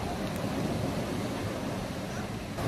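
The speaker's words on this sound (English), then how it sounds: "the waves are crazy" Rough surf rolling in at a Maui beach in Hawaii, a steady broadband roar of crashing waves with some wind buffeting, holding at an even level for the whole stretch with no talking.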